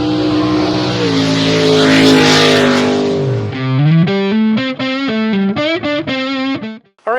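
A 1965 Mustang's 200ci straight-six with a new cylinder head and Autolite 1100 carburetor cranks, then catches into loud, uneven revving that rises and falls in pulses before cutting off.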